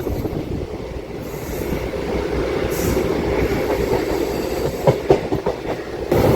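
A DEMU passenger train rumbles steadily across a railway bridge on the Secunderabad–Siddipet route, with continuous wheel and carriage noise, rhythmic clatter and a few sharper rattles near the end, heard from inside the train.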